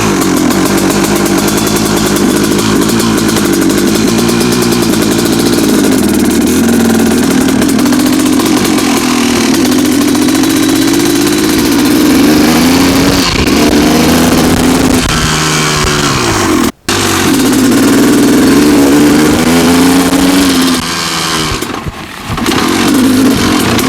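KTM motorcycle engine running after a clutch swap back to stock, a loud close steady idle with rising and falling revs and a brief cutout near the end.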